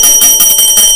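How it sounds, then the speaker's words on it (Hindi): A golgappa vendor's bell rings loud and close on a street corner in rapid, evenly spaced strokes, with a bright metallic tone that carries throughout. "अचानक गली के कोने पर गोलगप्पे वाला आता है, अपनी घंटी बजाता है"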